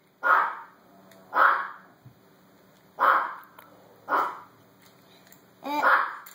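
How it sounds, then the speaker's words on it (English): Five loud, separate barks ring out at uneven intervals, each a sharp single woof with quiet pauses between. "I hear dogs barking."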